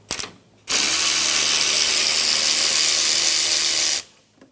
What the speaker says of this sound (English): On the front side of the bumper support, remove the 10mm bolt on the condenser lines.